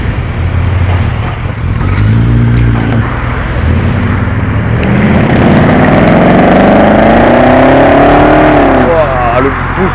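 A 1972 Corvette C3 Stingray engine fitted with an aftermarket exhaust rumbles loud and close, then rises in a sweeping rev before dropping back, while people talk over it.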